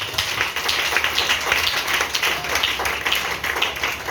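A church congregation claps together in a steady, rhythmic beat, the many hands blending into a lively, continuous patter throughout.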